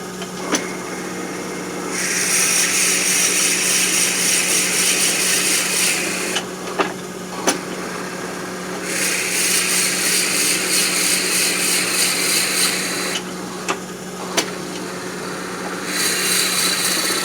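A wood lathe turns a peppermill blank while a drill bit bores into it, the spindle humming steadily under three long loud bursts of cutting noise with sharp knocks between them.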